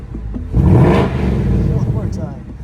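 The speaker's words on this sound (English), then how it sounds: "we'll give it a few revs here" A yellow 2024 Ford Mustang GT fastback with a 486 hp 5.0L V8, automatic and active exhaust, revs loudly close by, a deep throaty surge that swells then settles into a rumbling idle, with a voice speaking over it.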